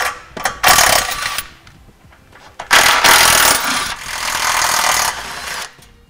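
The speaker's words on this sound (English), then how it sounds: "we'll go ahead and remove those bolts, and these will actually be the bolts that we use to install our hitch" A socket wrench with 18mm and 15mm sockets removes hitch bolts from the frame rail of a 2013 Dodge Grand Caravan, making loud bursts of fast ratcheting separated by short pauses and softer metallic clicks, close up and without voices.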